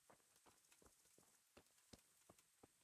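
Horse hooves clip-clop in the video game Kingdom Come: Deliverance, a faint, irregular series of soft thuds spaced across the moment with no one speaking.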